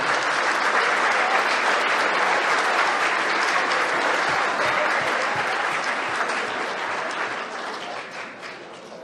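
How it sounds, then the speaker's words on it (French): Sustained applause from a dinner audience honouring volunteers, steady and dense for most of the stretch before thinning slightly near the end, with no talk over it. "donnez-vous une bonne main d'applaudissement"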